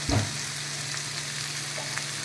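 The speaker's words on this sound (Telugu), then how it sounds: "ఎర్రగడ్డలు బాగా మగ్గించుకోవాలండి." Onions sizzle steadily in oil in a pan, salted and softening for a spicy onion egg curry, with a brief stir near the start and no talk.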